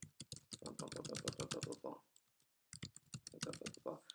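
Rapid clicking of computer keys in quick bursts, with a brief pause in the middle; a faint voice may be mixed in.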